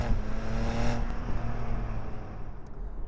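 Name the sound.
BMW Z4 sports car engine revving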